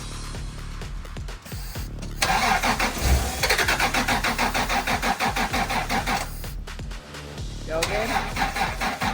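A Toyota Prado engine cranks in bursts and then catches and runs after a fuel pump repair, loud and close, with repeated starter churning and revving; people speak briefly over it.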